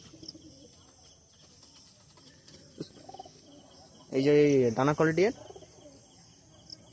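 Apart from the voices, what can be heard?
pigeons cooing in a loft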